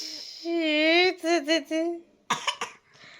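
A voice whines briefly, then a few short, sharp coughs follow in a quick cluster, close and fairly loud.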